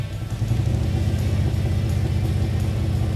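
A motorcycle engine in first gear, rear brake lightly covered, revving as throttle is applied, giving a steady, loud, close low rumble that holds without a break.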